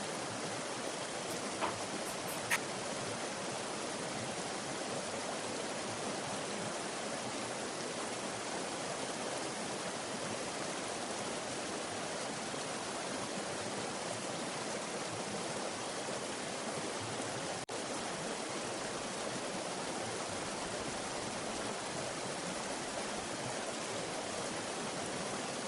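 Steady broadband rush of water pouring over the Fish Hatchery Weir on the American River, a dense continuous roar with no breaks, close and fairly loud throughout.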